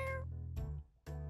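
A cat in a video game meows in short, tonal cries, three distinct calls separated by brief gaps, loud and close with no talk over them.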